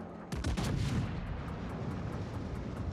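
Ship cannon fire in a naval warship video game: a booming salvo with rumbling blasts in the first second, followed by a sustained low rolling rumble and faint repeated ticks.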